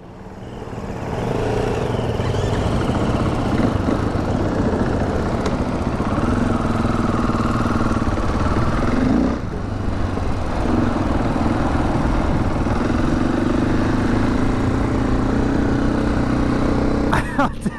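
A 2016 Husqvarna FE 501 S dirt bike engine starting for the first time and settling into a steady, loud idle with small throttle blips, running close by for the whole stretch.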